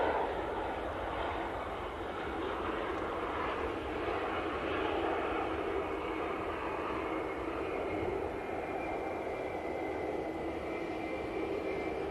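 An Airbus A321 in from Munich moves at Manchester Airport, its engines making a steady, moderately distant broadband rumble and whine that stays constant throughout.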